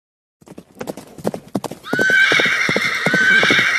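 Horse hooves clip-clop in an irregular trot, then a loud, drawn-out whinny rises and holds over the continuing hoofbeats.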